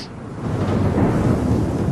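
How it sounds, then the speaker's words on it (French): Thunder rumbles low and broad, building slightly and rolling on steadily near a desert spring in a canyon as storm clouds approach, with no voices. "Du tonnerre."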